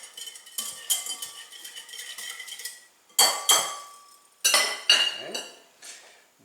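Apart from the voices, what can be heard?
whisking flour and instant yeast in a bowl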